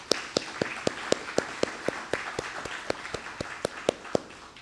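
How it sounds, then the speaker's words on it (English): A small audience at a campus lecture applauds, the clapping sparse and evenly paced, individual sharp claps clearly separated in a steady rhythm throughout. "Let's give her a big round of applause"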